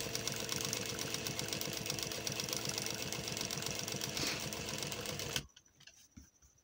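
Sewing machine stitching a decorative design on fabric, a steady rapid mechanical chatter running continuously for about five seconds before stopping abruptly, leaving only faint quiet handling sounds.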